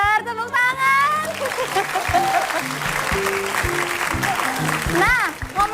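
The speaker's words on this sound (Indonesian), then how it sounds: "Pintar, tepuk tangan." Canned studio audience applause on an Indonesian TV talk show bursts in amid upbeat music and sound effects, with a voice speaking over parts of it.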